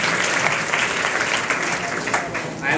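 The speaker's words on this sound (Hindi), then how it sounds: "जोरदार ताली बजाएंगे इनके लिए भी।" Loud, dense applause from a seated audience at a Hindi memory-training talk, steady clapping filling the whole stretch with a few sharper bursts and no clear speech.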